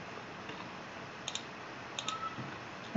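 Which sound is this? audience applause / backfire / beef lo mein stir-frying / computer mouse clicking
computer mouse clicking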